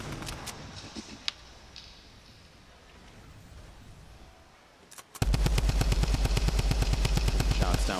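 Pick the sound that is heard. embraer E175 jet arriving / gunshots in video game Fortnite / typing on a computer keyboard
gunshots in video game Fortnite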